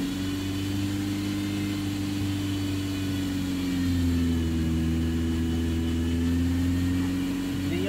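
A car engine held at raised RPM to force trapped air out of the cooling system after a radiator coolant refill, giving a steady close hum that rises slightly partway through.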